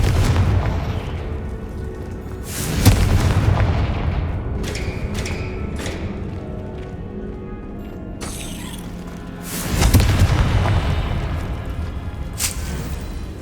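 Confringo fire-spell blasts in the video game Hogwarts Legacy, with two loud booming bursts amid busy rumbling game effects and scattered sharper pops and crackles, with no talk.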